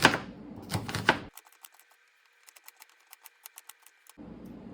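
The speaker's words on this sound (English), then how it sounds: "And then I'm going to lay it down and slice into slices." An onion being sliced with a knife on a cutting board. Sharp, evenly spaced taps come close and fairly quiet, with a steady hum under them, between louder stretches of other kitchen noise at the start and end.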